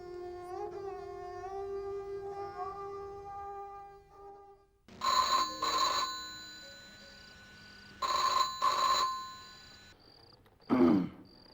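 Telephone ringing at a police station, a faint melodic electronic ringtone followed by louder bursts of bright, repeated ringing, separated by short pauses.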